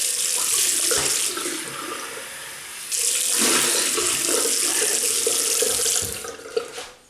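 A Gillette Slim Adjustable DE razor is rinsed under a running tap, giving a steady close splash of flowing water with a brief shift in tone midway, ending with a small clack.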